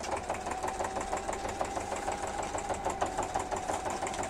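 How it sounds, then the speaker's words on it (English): A sewing machine runs steadily, stitching in a fast even mechanical rhythm throughout, quiet and close with a constant whirring hum. "So I got the sewing machine right here."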